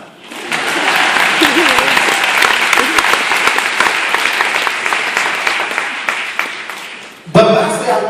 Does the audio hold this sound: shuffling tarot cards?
no